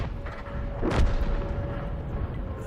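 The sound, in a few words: artillery fire in a tank video game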